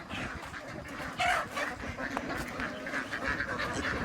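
Several ducks quack in a busy, overlapping chorus at moderate distance at a cafe in Sattahip, Thailand, with a few other fowl calls mixed in.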